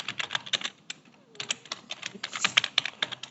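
Quick bursts of computer keyboard typing while entering C++ code in Xcode on macOS, crisp close key clicks in irregular runs with a short pause midway, no speech.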